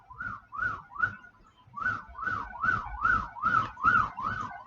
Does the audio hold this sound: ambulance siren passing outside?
yes